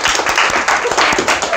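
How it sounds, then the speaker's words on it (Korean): Students in a classroom clap together at a teacher's prompt, a dense loud burst of hand claps filling the moment with some voices mixed in. "자, 박수 한번 칠게요."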